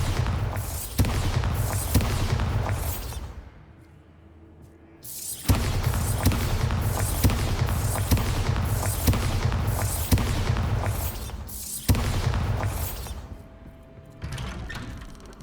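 Repeated Bombarda blasting spells cast in Hogwarts Legacy inside a Hogsmeade shop, loud booming bursts with crackling debris that run nearly continuously, broken by one short quiet gap and then a fresh blast, with no talking.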